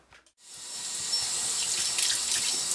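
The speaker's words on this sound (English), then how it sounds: "got ourselves some warm running water" Warm water runs steadily from a tap into a sink, starting after a brief quiet moment and then holding an even, close, continuous splashing hiss.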